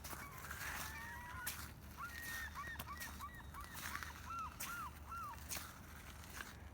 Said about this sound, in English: I just love the sound of the seagulls on the beach.